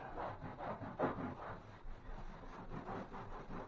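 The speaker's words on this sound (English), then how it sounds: "Just going over it with the sponge." A wet sponge rubbed over the edge of a drywall patch to feather the joint compound, a faint, soft scrubbing in repeated strokes, close and alone.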